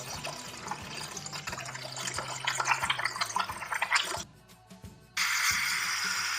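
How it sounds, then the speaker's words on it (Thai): Hot water pours from the dispenser of a secondhand espresso machine bought on Shopee, a continuous splashing trickle close by that cuts off briefly and then resumes. "เพียงเราหมุนนี้ลงมา นะครับเครื่องเขาก็จะปล่อยไอ้น้ำออกมา"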